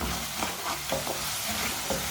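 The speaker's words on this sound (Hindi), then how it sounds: "मसालों को 1 मिनट के लिए मैंने पका लिया है।" Spices frying in a pan while being stirred: a soft, continuous sizzle with scraping stir strokes at irregular intervals, close and fairly quiet.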